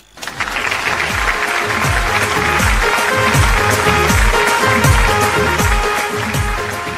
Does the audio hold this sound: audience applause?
yes